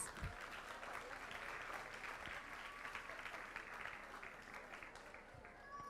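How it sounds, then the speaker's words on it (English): Faint, steady audience applause at a school board meeting honoring an employee named Nichelle Miller, a continuous wash of clapping at low level throughout. "Let's give Nichelle Miller another round of applause."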